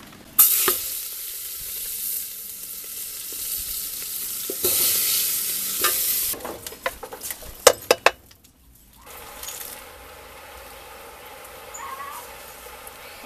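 Tripe for a mocotó and dobradinha dish goes into a pressure cooker and is stirred, giving loud wet scraping and sizzling, then a few sharp clinks of a utensil against the metal pot before a quieter stretch.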